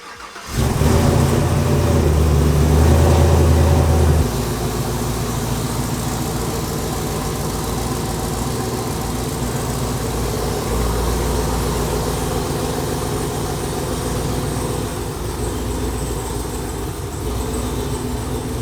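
A Ford Mustang's engine runs as the car is driven into a garage, a loud steady rumble that swells briefly at the start and then holds at an even idle-like drone throughout.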